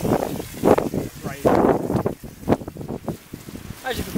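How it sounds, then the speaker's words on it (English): Strong wind at a wild camp buffets the microphone in loud, gusting roars, surging and dropping in bursts, with a person speaking underneath. "hopefully the wind will die down a little bit"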